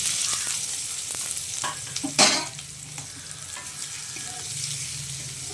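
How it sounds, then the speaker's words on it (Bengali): Onions sizzle as they fry in hot oil for a spicy crab curry, with a louder burst of crackling about midway as they hit the oil and a steady hiss before and after. No one speaks. "এবারে আমি তুলে ফেলবো ওই তেলের মধ্যে পেঁয়াজগুলো"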